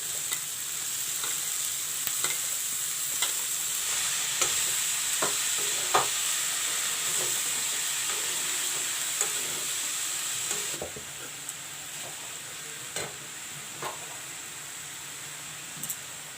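Cabbage sizzling in a pan with browned masala and tomatoes, a steady fry under repeated scraping stirs and light utensil clicks, the sizzle easing a little partway through.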